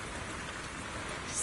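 Steady rain falling in the video game ZZZ, a dense, even hiss of drops that continues without pause and without any voices.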